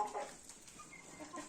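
Hens cluck faintly in a farmyard flock, soft scattered calls at a distance with low background noise.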